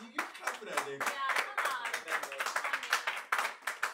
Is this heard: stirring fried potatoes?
no